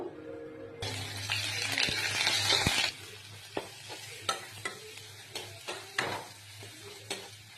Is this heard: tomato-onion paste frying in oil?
yes